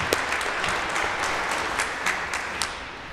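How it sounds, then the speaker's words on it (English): An audience at a school Founders Day prayer service gives a round of applause, a dense steady clapping with a few sharper individual claps standing out over about three seconds. "Shall we also give them a round of applause?"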